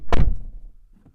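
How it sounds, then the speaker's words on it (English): Doors of a 2021 Renault Zoe Intens shut with one loud, close solid thunk, followed by a short fading rattle and a faint softer knock near the end. "So let's close up the doors."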